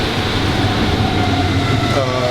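A model train runs around a railroad layout at a railroad museum in Conneaut, Ohio, giving a steady, close rumble and clatter that fills the whole stretch without pause.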